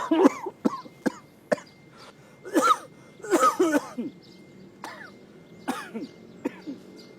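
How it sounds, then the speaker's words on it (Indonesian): Several harsh coughs and throat-clearing bursts come in irregular clusters, close by, with quieter breathy pauses between them. "kenapa pian batuk?"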